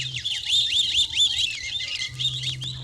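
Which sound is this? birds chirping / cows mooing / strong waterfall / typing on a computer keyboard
birds chirping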